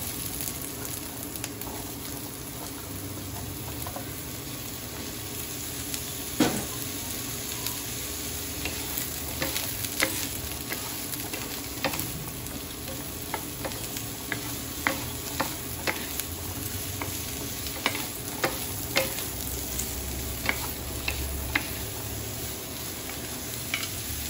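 Sliced ampalaya (bitter melon) sizzles steadily while stir-frying with tofu in a hot pan, a continuous close crackle dotted with small pops and the occasional scrape of stirring, with no talking.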